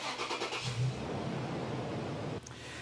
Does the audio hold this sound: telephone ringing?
no